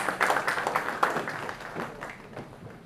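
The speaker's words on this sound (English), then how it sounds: "Please may I have a huge round of applause from our audience." Continuous audience applause at a film festival panel discussion, a dense patter of many hands clapping that holds steady and then gradually thins out.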